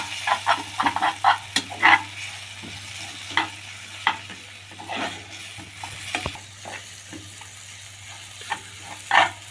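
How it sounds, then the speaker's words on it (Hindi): Urad dal being stirred with a spoon as it fries in hot ghee, with a steady soft sizzle broken by repeated scraping clicks of the spoon against the pan, close and fairly quiet, no talking. "इसको दाल माश को डालते ही इस घी में चम्मच चलाते रहना है।"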